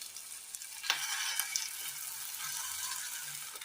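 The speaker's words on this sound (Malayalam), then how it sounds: "ഇനി ഇതിലേക്ക് നമ്മൾ അരച്ചു കൊണ്ടുവന്ന് തേങ്ങയുടെ അരപ്പ് ചേർത്ത് കൊടുക്കാം." Ground coconut paste is added to a Kerala curry in a pan and stirred in, making soft, steady sizzling with scattered stirring scrapes at a quiet level and no talk.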